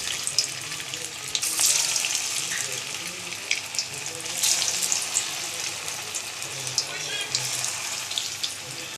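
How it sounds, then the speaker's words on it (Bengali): Soybean koftas fry in hot oil, a steady close sizzle with crackling bursts and brief watery splashes, the cooking noise running continuously with no talk over it. "এগুলো আমি তেলে এবার ভাজবো"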